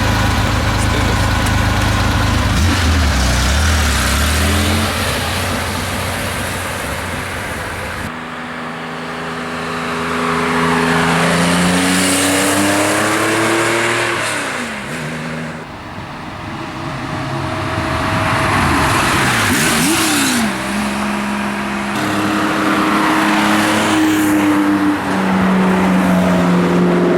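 An RS car revs and accelerates through several rising and falling engine sweeps, loud and close, with road noise and an idling pause between pulls and no talking.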